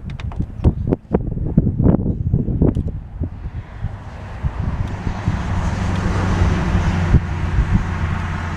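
Strong wind blowing outdoors beside a pink van, starting with scattered knocks and handling clatter, then settling into a steady broadband rush of gusts buffeting the microphone, with no talking.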